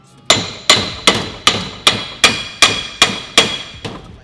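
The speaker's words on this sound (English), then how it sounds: "we're going to take a hammer and tap on the yoke and try to break it free from the drive shaft" A hammer strikes the yoke of a drive shaft on a classic Ford Bronco, trying to break it free: nine sharp, ringing metallic taps at a steady pace, close and loud, with nothing else heard.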